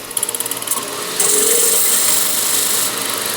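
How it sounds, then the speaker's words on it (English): Wood lathe set up with a Vermec sphere jig for turning a wooden sphere; a few quick clicks come first, then the motor switches on into a loud, close, steady hum. "Turn the lathe on"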